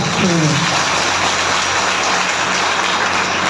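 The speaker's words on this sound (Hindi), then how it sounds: "सभी लोगों को एक जोरदार ताली दीजिए आप" Loud, dense applause from an audience at a DXN RVC training session fills the clip steadily from start to end, with a brief voice near the beginning.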